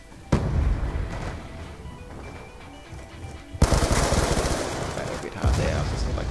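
Rapid automatic gunfire in the first-person shooter Black Ops 2, loud sustained bursts starting sharply and stacking into near-continuous fusillades with brief lulls, close and dense.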